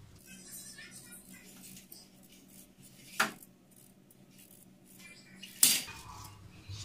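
A knife slices through potatoes on a kitchen board while a side for oven-roasted cumin chicken is prepared: two sharp, crisp cuts about two seconds apart over a low, steady room murmur.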